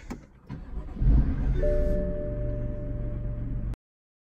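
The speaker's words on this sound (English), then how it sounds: "so now we're inside the M3. Now let's start it up." A BMW M3 F80 engine starts from inside the cabin: a click and a short starter crank, then the engine catching into a loud, steady idle with a faint electronic tone, until it cuts off abruptly near the end.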